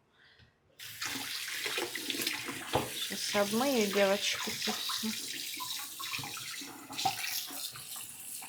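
Water pours steadily from an open tap into a sink in a home kitchen, a continuous splashing rush, with someone speaking briefly over it.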